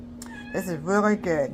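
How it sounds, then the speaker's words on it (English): Cats meowing at home while a woman prepares overnight oats, a drawn-out meow rising and falling close by, heard alongside her brief spoken remark. "Y'all may hear my cats meowing in the background,"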